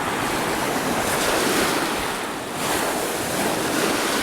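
Wind gusting loud and steady across the Lake Superior shore at Vermillion Point, a broad rushing roar with surf-like wash, dipping briefly midway before swelling again; no voices.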